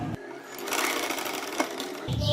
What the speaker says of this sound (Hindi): अब मैं यहाँ पर रखकर इसको सिलाई लगाऊंगी और फिर इसके साथ इसको अटैच करेंगे